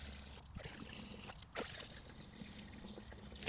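Water pours and trickles out of a container of soaked grass seed being drained, a faint, steady splashing hiss that runs throughout.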